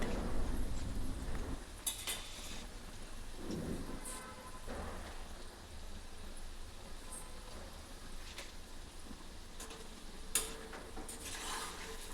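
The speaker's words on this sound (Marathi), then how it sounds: "असे छान हलके गुलाबी होईपर्यंत इथे तळायचे" Layered khaja pastry frying in hot oil, a steady hissing crackle with a few louder sputters and stirring clinks scattered through it, moderately close and with no talking.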